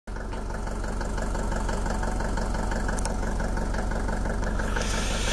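A car engine running steadily while driving on a trip to Nyzhnia Bedakivka, a loud constant mid-pitched drone with rhythmic vibration, close and continuous with no talk.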